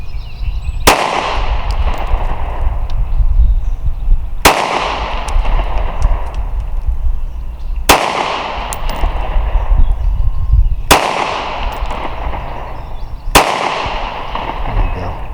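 Handgun shots from a Sig P365 or Walther PPS M2 at a range, five loud sharp reports spaced a few seconds apart, each with a ringing decay.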